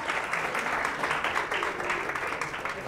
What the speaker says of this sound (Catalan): un aplaudiment ben fort, ben fort, ben fort